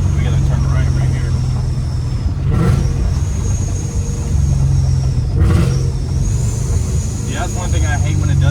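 Mustang GT V8 with an aftermarket exhaust and supercharger, rumbling steadily from inside the car while driving, with short throttle blips swelling out of the drone around the three- and five-second marks.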